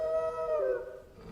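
A wolf in Final Fantasy 16 lets out a single long, fairly close howl that slides downward and fades away, heard on its own without talk.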